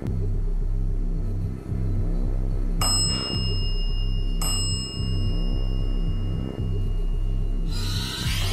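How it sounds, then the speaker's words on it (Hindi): Two sharp bell dings ring out over a loud, pulsing mechanical rumble, each a bright struck tone with a lingering ring, spaced about a second and a half apart. "जब मैं बोलता था तीन बेल दो तो तीन बेल आती थी"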